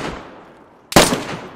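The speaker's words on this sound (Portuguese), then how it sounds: "Eu tomei tiro de alguém" A single sharp gunshot in the DayZ video game cracks loudly after a quieter stretch, followed by a short echoing decay; no talk is heard.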